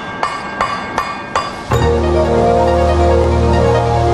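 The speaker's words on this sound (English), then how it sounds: "the billet will more easily fuse together with hammering" Hammer blows strike a gold billet during forge welding, four sharp ringing clinks in an even rhythm, then a sustained metallic ring with a steady hum underneath.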